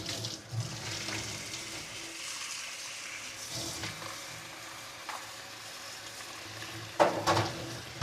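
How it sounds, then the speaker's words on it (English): Hands being rinsed under a running kitchen tap, a steady hiss of water splashing into a sink for several seconds, with a few small clatters near the end and no talking. "Gonna rinse my hands."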